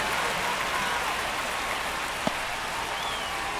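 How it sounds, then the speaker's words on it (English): Steady rain pours over a baseball field in the video game MLB The Show 25, a constant even hiss throughout with a single brief thump partway through. "the field's not going to be able to hold up if the rain gets any worse than this"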